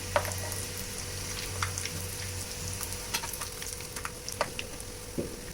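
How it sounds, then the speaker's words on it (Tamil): Sweet snacks made from flour and rava fry in hot oil with a steady, soft, even sizzle and a few faint crackles on top. "ஒரு பக்கம் ஃப்ரை ஆயிடுச்சுன்னா இதை நம்ம திருப்பி விட்டுக்கலாம்"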